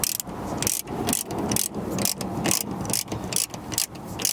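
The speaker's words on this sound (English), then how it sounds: "We will now reinstall the two 10mm bolts on either side of the factory head unit" Ratchet wrench clicking steadily as two 10mm bolts are tightened behind the factory head unit of a 2012-2015 Lexus RX, a fast, continuous rattle of pawl clicks heard up close with no talking.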